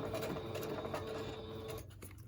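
A sewing machine stitches a pocket made of patterned craft paper, a close, steady whirring run of rapid needle strokes that cuts off near the end, no talking.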